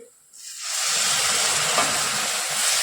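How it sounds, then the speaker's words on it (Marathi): After a quiet moment, a loud, steady steaming hiss rises and holds as hot milk and water are poured bit by bit into a hot pan of roasted semolina. "दूध आणि पाणी आपण उकळवून घेतलं आता हे आपण थोडं थोडं यात घालणार आहे"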